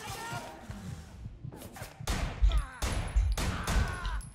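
Gunfire rings out in the video game Sleeping Dogs, a few loud, booming shots with echoing tails alongside scuffles and thuds, while someone talks excitedly in the background.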